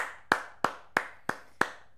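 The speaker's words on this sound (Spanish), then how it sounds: "Todos, todos aplaudiendo al Papu que se está por hacer multimillonario" Five sharp, evenly spaced hand claps ring out, close and crisp with a short decay after each, in a steady rhythm over about two seconds.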